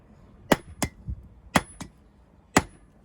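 A big hammer strikes hot steel at a forge while shaping a knife, ringing in sharp, loud, irregular blows, some in quick pairs, close by with no talk.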